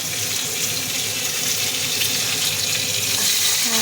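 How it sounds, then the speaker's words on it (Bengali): Pomfret fish frying in well-heated oil, giving a loud, dense, continuous sizzle close by with no talk. "ভালো করে তেল গরম করে মাছ কিন্তু ভেজে নিচ্ছি"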